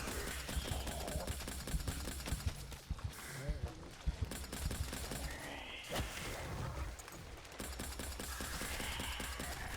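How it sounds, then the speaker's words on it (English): Wonder weapon gunfire in a zombies video game: dense, continuous bursts of rapid shots layered over busy game noise, with a voice talking over it throughout. "you can also just shoot your wonder weapon"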